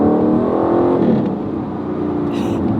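An Aston Martin Vantage with a sports exhaust roars loudly and close while driving, its engine note rising then easing off with a rough, burbling edge.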